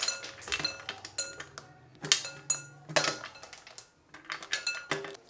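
Chocolate-bound almonds are tipped into a bowl, making a quick run of light clicks, clinks and rattles against the dish, close and fairly faint.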